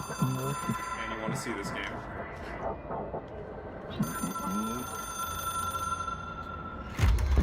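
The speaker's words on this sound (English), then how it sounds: "It is a phone." A telephone rings repeatedly in the video game Control, a sharp, bell-like ring recurring in bursts against low ambient rumble, with someone talking over it.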